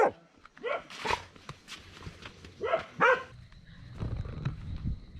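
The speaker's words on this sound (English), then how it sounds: "Are you seriously barking at me?" A dog barks near a jungle hostel in Leticia, Colombia, giving a run of sharp yips and barks that fade into whimpering noise, fairly close.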